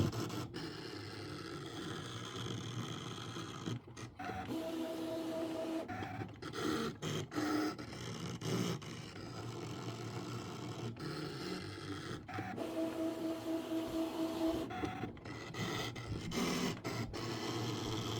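An electronic cutting machine's auto blade slices applique fabric pieces, with soft mechanical whirring, scraping and clicks plus short tonal motor whines as the carriage moves, heard close and fairly quiet.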